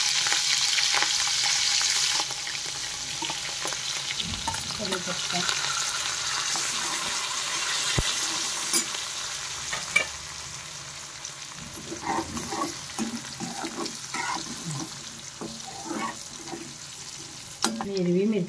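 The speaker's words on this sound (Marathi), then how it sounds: "मैं आता राई आणि जीरा टाकून घेते हिंग टाकून घेते हिरवी मिरची टाकून घेते" Mustard seeds, cumin, asafoetida and green chilli sizzle in hot oil for a cluster bean and potato dish, a continuous frying hiss with scattered pops and stirring clatter, close up, and someone talks quietly over parts of it.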